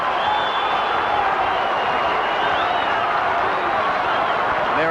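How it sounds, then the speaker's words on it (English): A football ground crowd at a 1981 Fitzroy v Footscray match roars in a continuous, loud ovation for a player leaving the field, a broad wash of cheering and clapping with no clear breaks. "listen to the crowd giving him a fine ovation"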